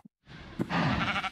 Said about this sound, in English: I heard the noise. I assume it was the sheep.